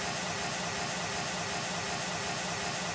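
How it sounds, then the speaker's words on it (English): Steady, continuous hiss of a pink noise test signal used for spatial audio speaker calibration in a room, even in level and unbroken throughout. "it's pink noise that is traveling around your room"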